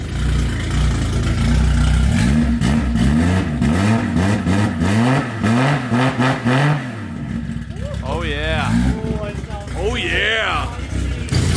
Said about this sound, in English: Give me a good rev.